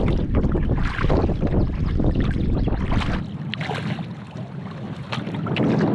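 Strong, relentless wind buffets the microphone while canoeing solo on an open lake, with water sloshing against the canoe; the gusting roar is loud and continuous, easing slightly midway before building again.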